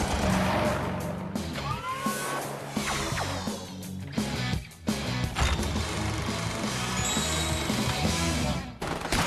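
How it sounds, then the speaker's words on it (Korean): Gunfire rings out in a war film trailer, with loud, dense bursts of shots mixed with battle noise and rumbling that carry on almost without pause. "귀가 따갑도록 몰아치는 총성"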